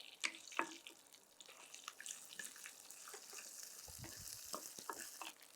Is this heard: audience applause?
no